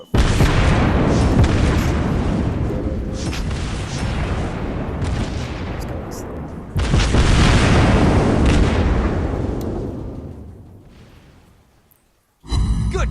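Main guns of the battleship Gneisenau in World of Warships Blitz fire as loud booming blasts with long rumbling decays, a second heavy salvo midway and a fresh blast at the very end.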